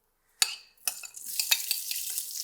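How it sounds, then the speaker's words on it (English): Onions and chili hit hot oil in a pressure cooker, with a sharp clatter as they drop in, then a bright sizzle rising under scattered stirring scrapes and clinks. "I'm going to go in with my onions and my chili"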